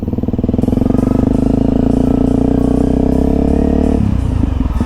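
A four-stroke Honda Wave 125i motorcycle revs loud and close, its engine holding a steady buzzing drone before the pitch drops as the throttle eases off.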